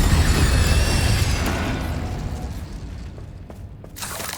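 A fire spell, Incendio, cast in the video game Hogwarts Legacy, heard as a loud whooshing burst that rumbles and fades over a few seconds.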